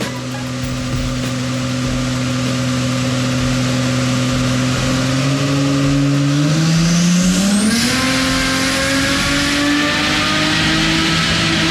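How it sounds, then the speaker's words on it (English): A Holden VL Calais Turbo roars on a dyno, its engine note holding steady and loud before climbing sharply in pitch as the revs rise, continuous and close. "We've got one dyno run in there"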